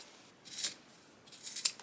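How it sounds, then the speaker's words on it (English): Scissors trimming a fabric waistband close to a new stitch line, two short crisp snips about a second apart, close and alone. "I'm going to cut it about a half an inch away from my new stitch line."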